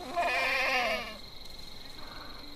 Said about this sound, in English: Oh, these are the sheep.